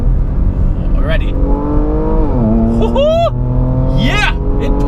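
Engine of a Lykan Hypersport with exhaust valves open, rising and falling in pitch as the driver drops several gears, loud and close inside the cabin under continuous talk.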